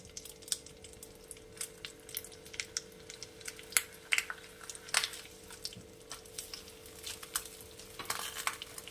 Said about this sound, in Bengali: এরপরে আমি মশলা মাখানো মাছগুলো এখানে দিয়ে দেবো